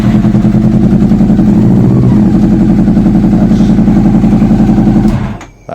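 A Honda CB400 Super Four motorcycle's engine running from a cold start, loud and close with a steady, rapid rhythmic throb that holds for about five seconds before cutting off abruptly.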